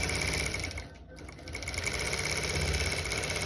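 A longarm quilting machine stitches through a quilt with a fast, steady mechanical whir and pulse. The sound dips briefly near the start, then runs on evenly and up close.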